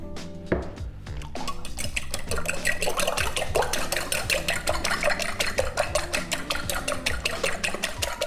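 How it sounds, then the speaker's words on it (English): A fork whisks eggs seasoned with black pepper in a bowl for high-protein breakfast muffins, producing a fast, steady run of close metallic clinks and scrapes against the dish with no one talking. "I'm literally just going to use a fork and whisk this together"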